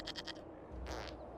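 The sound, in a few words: goat bleating in video game Dragon Age: Inquisition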